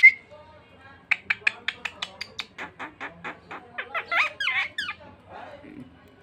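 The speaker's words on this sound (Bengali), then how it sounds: "এটা কি মুরগি ডাক হইলো?" A talking myna (salik) produces a rapid series of sharp chirping squawks meant as a chicken call, close and fairly loud, with a voice briefly nearby.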